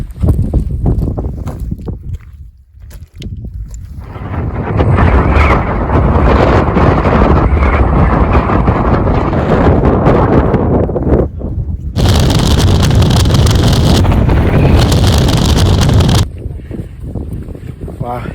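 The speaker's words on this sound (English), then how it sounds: "It's bloody windy up there." Strong wind roars and buffets the microphone on the summit of Skiddaw, with heavy, steady gusts for most of the clip and a brief lull near the start.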